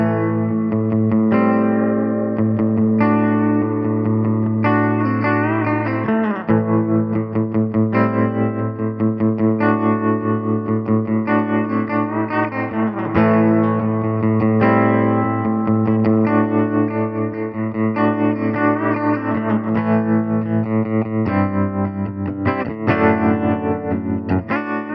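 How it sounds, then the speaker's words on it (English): Spring reverb pedal run with its tremolo engaged, carrying a continuous, sustained instrument line that shimmers and wavers, with a wet reverberant tail throughout and no talking. "I can turn the reverb on and off with the onboard switch while the tremolo still remains engaged"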